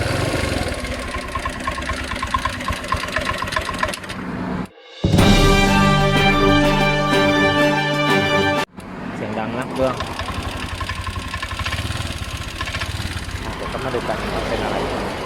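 A first-generation Honda Click 125i fuel-injected motorcycle engine runs with a steady mid-pitched drone, starting hard, idling low and stumbling when revved; the tone shifts briefly mid-way before settling back to the uneven running note.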